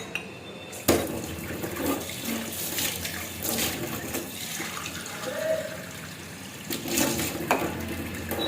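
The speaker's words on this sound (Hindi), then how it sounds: "पानी आ रहा है।" Water runs steadily from a tap into a sink for several seconds, a broadband splashing rush that swells and eases at moments, fairly close and alone with no talk over it.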